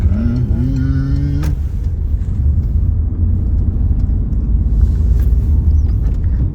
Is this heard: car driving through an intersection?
yes